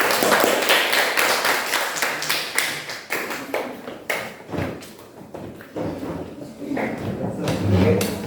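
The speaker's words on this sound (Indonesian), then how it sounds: "Silakan beri tepuk tangan untuk kelompok ini" A classroom audience claps for a presenting group, scattered, uneven hand claps and taps from a small crowd, starting dense then thinning into irregular bursts, with voices talking over them.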